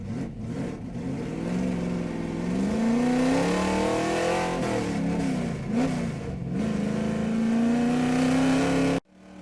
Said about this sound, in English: Big Mike rolls out of turn 4, looks good, hammered down